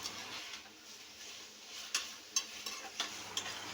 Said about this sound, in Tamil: நல்லா வதக்கிட்டு வதக்கினதுக்கப்புறம் கழுவி வச்ச சிக்கனை போட்டு நல்லா வதக்குங்க